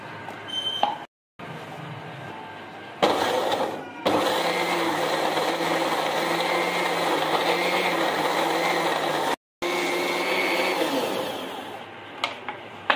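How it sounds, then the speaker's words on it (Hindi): An electric blender grinds spice ingredients with a little water for Lahori chanay masala, whirring loudly and steadily in long bursts, with two brief stops and a short start-up burst at the beginning. "अब इसे हम ब्लेंडर कर लेंगे"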